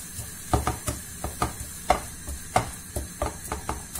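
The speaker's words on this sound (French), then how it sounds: "on va laisser rissoler un petit peu cet oignon" Salted onion browning in a pan in a cauliflower dish: a quiet sizzle broken by a dozen or so distinct scraping and tapping strokes of a utensil stirring, with no voices.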